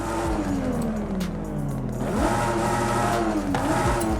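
A tuned Toyota Supra A90 engine with upgraded camshafts revs up and down in Forza Horizon 5, pitch sweeping as it climbs and drops, loud and steady throughout.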